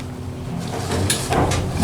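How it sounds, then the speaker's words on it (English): Doors on a Murphy traction elevator in a hotel slide shut with a low mechanical rumble and a couple of soft thuds as they meet, heard close inside the cab without speech. "Doors closing."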